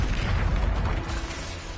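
A muffled boom and rumbling burst from a Bombarda explosion spell in Hogwarts Legacy, a single dull blast fading into a low rumble, with no talk.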